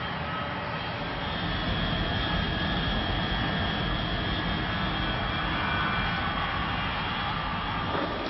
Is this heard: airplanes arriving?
yes